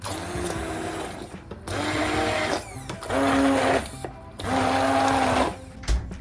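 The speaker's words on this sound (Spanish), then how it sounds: "Entonces, vamos a licuar." A kitchen blender whirring through ingredients for a summer recipe in four loud, close bursts of a few seconds each, separated by short pauses.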